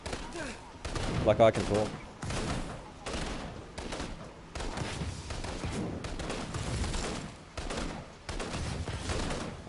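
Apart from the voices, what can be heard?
gunfire from an enemy shooting in the video game Infamous: Second Son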